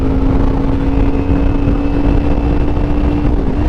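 A car engine drones loudly through an aftermarket SE project exhaust, a steady close rumble with a sustained tonal hum that holds for several seconds without speech.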